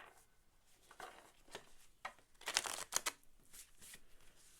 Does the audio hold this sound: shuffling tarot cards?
yes